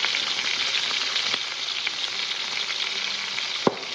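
Onions sizzle hard as they hit a hot pan, a bright, steady frying hiss that stays loud and close, broken near the end by one sharp clink of a utensil against the pan.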